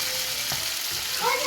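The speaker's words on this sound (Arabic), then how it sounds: "انت شغلة 5 دقايق تتحمر في الشو وبعدين بنطفيها" Meat fries in a pan, giving a soft, steady crackling sizzle heard up close and fairly quietly, with a few brief clinks.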